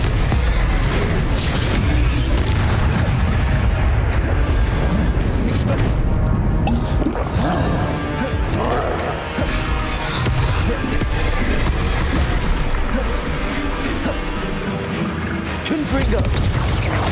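Repeated Confringo blasting-spell explosions from Hogwarts Legacy on Switch, dense booming blasts and crashes layered with game music and effects, continuous and loud throughout, with a voice talking over the action.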